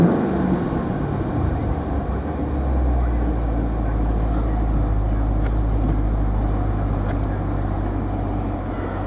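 A 2011 HSV Clubsport's engine is revved, building to a loud, steady low rumble that holds close by from about three seconds on, with a broadband roar over it.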